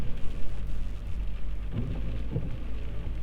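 Rain falls steadily during a stormy spell on a rural road trip, a dense hiss with low rumbling underneath, loud and continuous with no voices.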